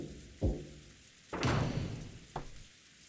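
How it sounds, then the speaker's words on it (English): Knocking on a door in the Umineko visual novel game: a soft thump, a louder cluster of raps, then a final single knock, with indoor rain pounding against a window faintly underneath. "There was a knock on the door and Genji entered."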